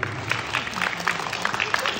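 Scattered audience clapping greets an Olympic medallist rower at a summer event, thin and uneven, mixed with crowd voices.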